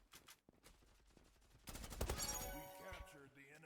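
Gunfire from the online shooter Zula, a loud burst of rapid shots in the second half after a quieter stretch with a faint voice, with a synthetic in-game tone ringing out as it trails off.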